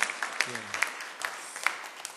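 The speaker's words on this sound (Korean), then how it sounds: "박수로 한번 환영하시겠습니다" Sparse, light clapping from a church congregation welcoming guests at a Sunday service, scattered distinct claps at a moderate distance with a short spoken murmur early on.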